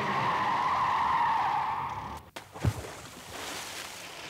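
A car's tires squeal in a long, loud skid under hard braking on a wet, rainy road, the screech cutting off abruptly, followed by a sudden thud and a quieter, rushing aftermath.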